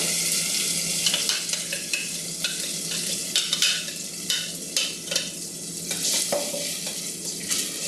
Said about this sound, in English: now I'm going to add my tomato puree